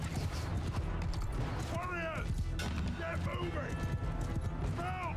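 Cavalry horses galloping across a battlefield in Mount & Blade II: Bannerlord, a dense, continuous drumming of hooves mixed with whinnies and battle clatter, loud and steady throughout, with someone talking over it.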